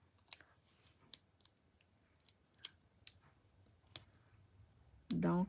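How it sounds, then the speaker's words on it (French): Scissors snip through small pieces of cardstock during card making, a slow run of sharp, isolated clicks spaced about a second apart, close and clear, ending with a short burst of louder handling noise. "Découper avec les ciseaux."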